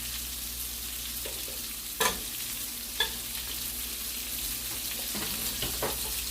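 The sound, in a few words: diced onion frying in butter and oil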